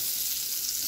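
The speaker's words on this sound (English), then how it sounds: "So let's go ahead and put the butter in. You hear that nice little sizzle?" Butter sizzles in a hot stainless steel pan, a steady, loud, close-up hiss and crackle throughout with no talking.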